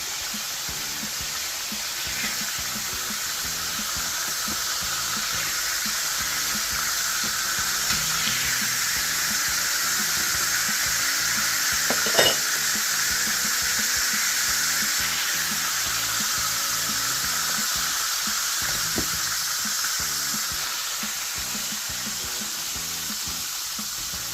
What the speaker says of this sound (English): we're gonna fry the rest of our pork tenderloin